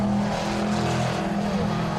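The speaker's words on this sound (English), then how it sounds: "There's the 35 car of John Dixon in the Cobra" A Cobra race car drives around the Donington Park circuit, its engine a loud, continuous roar held close throughout.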